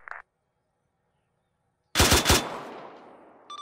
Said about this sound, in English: Ranging burst.